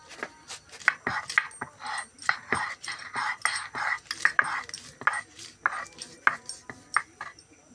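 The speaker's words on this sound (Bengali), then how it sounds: "মশলাটাকে বেটে নেব" Spices being pounded into a paste for a mushroom dish, with repeated sharp knocks and scraping strokes in an uneven rhythm, close and fairly quiet, without speech.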